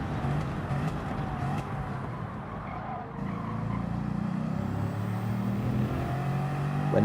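A Bugatti Veyron engine in a racing video game, revving and surging with a steady drone that shifts partway through as the car accelerates, with faint talk underneath.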